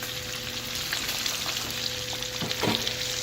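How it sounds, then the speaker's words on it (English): Steady oil sizzle and crackle of four chicken wings frying in a pot, with a few louder pops near the end; no talking. "Okay, the chicken is frying."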